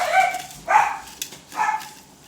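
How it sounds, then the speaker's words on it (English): Hungry pet dogs bark in a home kitchen, three short bursts of yips and barks spaced about a second apart, fairly close with a whiny edge. "my dogs are hungry. They want to eat too."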